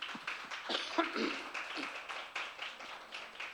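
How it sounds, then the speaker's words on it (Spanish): A church congregation claps during a Spanish-language service, a soft, fairly quiet patter of hands in uneven bursts, with faint voices mixed in. "Denle un fuerte aplauso al Señor en esta mañana"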